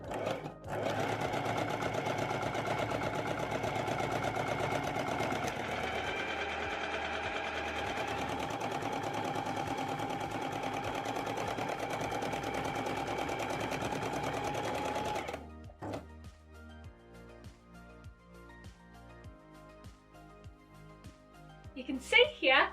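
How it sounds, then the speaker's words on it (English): A domestic sewing machine runs steadily for about fifteen seconds, sewing the side seams of Made by Rae Luna pants, then stops. Quieter handling noises and a few clicks follow. "continue stitching from the bottom of the pocket to the bottom of the pants"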